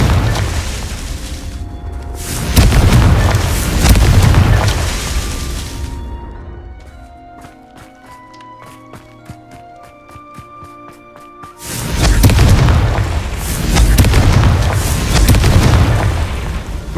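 Confringo blasting spells explode in the Hogwarts Legacy video game. Two long stretches of heavy, booming blasts are separated by a quieter passage of light ticks and tonal chimes, and the final stretch is as loud as the first.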